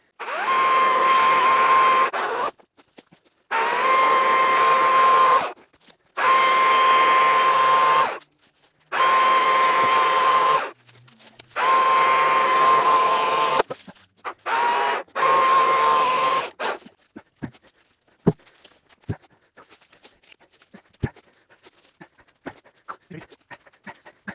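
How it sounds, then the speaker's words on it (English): An EGO CS2005 20-inch battery chainsaw bucks firewood in six loud bursts of steady whining cutting, each a few seconds long with short pauses, then a stretch of quieter scattered knocks and clatter as cut rounds are handled. "now we're going to pretty much just run the saw non-stop and see if we can't get it all bucked up into firewood"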